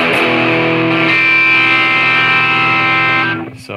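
A sustained electric guitar chord through a DOD Boneshaker distortion pedal rings out bright, trebly and buzzy, holding steady for a few seconds before cutting off abruptly.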